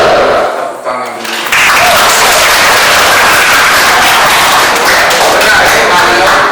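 A classroom of children claps together after answering questions in a lesson, a loud, steady burst of applause that starts abruptly and keeps going to the end, with some voices mixed in.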